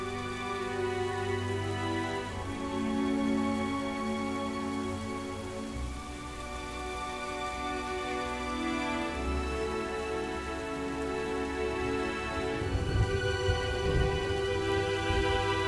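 Steady rain falls with a constant hiss and patter, while a layer of background music plays over it throughout, with no talk.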